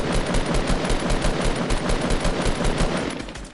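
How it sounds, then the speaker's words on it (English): Sustained rapid automatic gunfire from a shooter video game, a dense continuous burst of shots rattling loud and close for the whole stretch with no talking over it. "Just keep shooting, just keep shooting."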